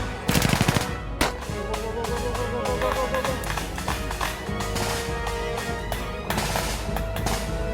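Gunfire from a Singapore army officer training film plays as rapid automatic bursts at the start, then continues under loud dramatic music and shouted commands for the rest of the stretch.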